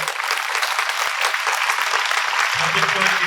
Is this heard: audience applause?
yes